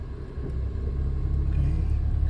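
A Honda HR-V engine runs in gear while the car sits on jack stands, giving a steady low rumble with a slight rise in intensity, close and continuous with no talk.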